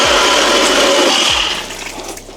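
A loud motorized ice auger whirs and grinds steadily, close by, drilling a transducer hole through ice, its engine drone fading slightly toward the end.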